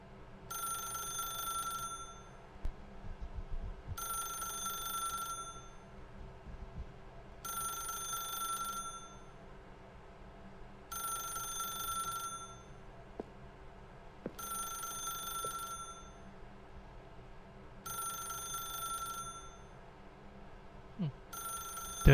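Telephone in The Stanley Parable video game rings in repeated bursts about every three seconds, seven rings in a row, steady and fairly loud over a low ambient hum with no talking.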